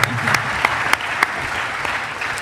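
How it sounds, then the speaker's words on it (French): Audience at a debate on Europeans and their destiny applauds in a brief steady round of clapping, with a few sharper claps standing out near the start. "On peut vous applaudir, bien sûr."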